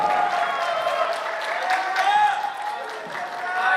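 Applause from an audience at a campus busking show greeting a student performer, steady moderate clapping throughout, with a voice and tonal sounds running over it.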